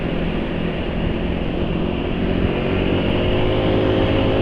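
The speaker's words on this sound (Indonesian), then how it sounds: "Yang jelas ya halus ya, suara mesin halus." A car engine running on Kyoso 20W50 oil idles smoothly and steadily, a continuous even hum with no change in pitch or loudness.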